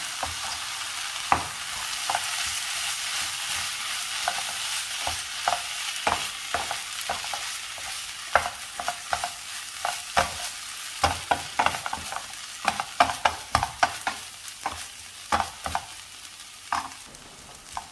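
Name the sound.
jackfruit seed stir-fry cooking in a pan after adding water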